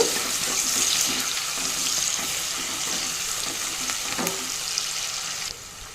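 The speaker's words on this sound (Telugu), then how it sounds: "ఆనియన్స్ తొందరగా వేగాలంటే కొంచెం సాల్ట్ యాడ్ చేస్తూ ఉన్నాను" Onions fry in hot oil with a sprinkle of salt while drumstick dal is being cooked, giving a steady, close, continuous sizzle and crackle throughout with no talking.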